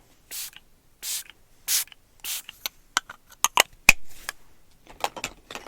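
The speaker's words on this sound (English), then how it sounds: "now I'm just gonna go ahead and go in with a little bit of setting spray" Four short, hissing bursts of a makeup setting spray bottle, evenly spaced, followed by soft taps and rustling handling sounds close by.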